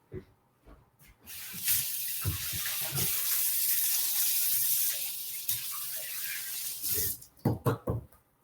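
Kitchen tap water running steadily into a sink while hands are washed, close and loud, with knocks and splashes at the start and end.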